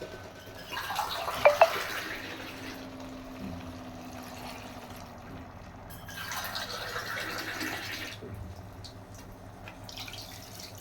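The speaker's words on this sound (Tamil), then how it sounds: "அதுக்கு முன்னாடி கொஞ்சம் தண்ணி சேர்த்துருவேன்." Water poured from a tap into a cooking pot of meat, a soft hollow splashing stream in two bursts with a few sharper clinks and quieter gaps between, no talk.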